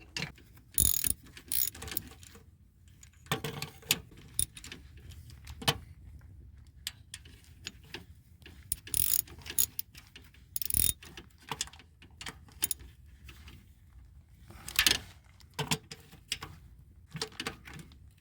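A ratchet wrench tightening the starter bolt on a Chevy Silverado 2500, with bursts of rapid close clicking separated by pauses and occasional metallic clinks, no speech.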